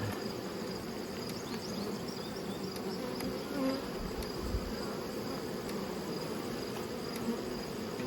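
Bees hum continuously inside a hive's brood chamber, a dense close buzzing drone at steady moderate loudness throughout with no voices.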